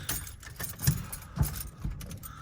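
Three keys for a 1990 Ford F-150 XLT Lariat jangle close by in a few brief rattling bursts, with faint background noise and no talk.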